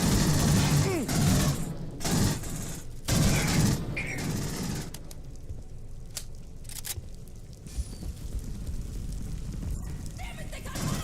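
Automated turrets open fire during a video game battle, sending out dense bursts of rapid gunfire with rumbling impacts that thin out into scattered shots. A voice shouts over the shooting.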